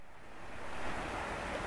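Steady rushing water from a forest stream, a continuous broadband wash that swells slightly midway and holds fairly close and even, with no talking.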